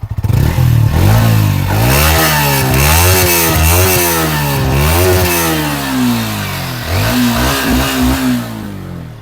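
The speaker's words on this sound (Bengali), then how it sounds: "এক্সস্টের সাউন্ড এবং ইঞ্জিনের সাউন্ড আপনারা শুনেন" A Yamaha XSR 155 cc motorcycle with about 3,000 km on it, engine and exhaust recorded up close, idling and then revved repeatedly in rising and falling surges, loud and steady throughout.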